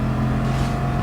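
A Jaguar Gr4 race car in GT Sport roars past at Monza, its engine a steady, loud, droning tone held close through the whole moment with no talk over it.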